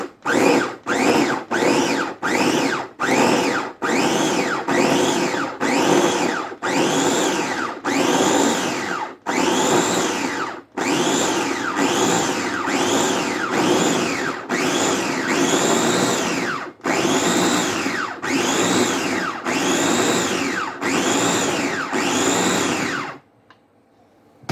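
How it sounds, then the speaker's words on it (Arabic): An electric blender grinds chermoula marinade ingredients for fish in a series of loud, whirring pulses, about twenty short bursts with brief gaps between them, ending abruptly in silence. "غادي نطحن العناصر ديالي كامله"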